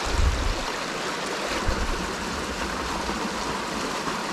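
Wilson's Creek in Pisgah National Forest flowing steadily: continuous broadband rushing and splashing of water over rocks, close and fairly loud, with a couple of low thumps near the start and no voices.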